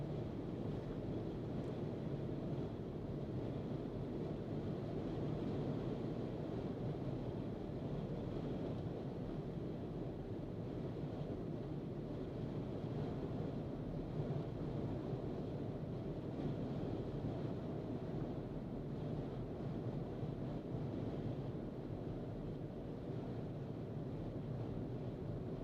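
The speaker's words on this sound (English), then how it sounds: "my weather app says the winds between Volcano and the coast are gusting to 25 miles per hour" Gusting wind buffets the microphone near Chain of Craters Road in Hawaii Volcanoes National Park, a constant low rumbling roar that continues unbroken throughout.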